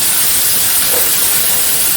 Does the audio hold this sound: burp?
no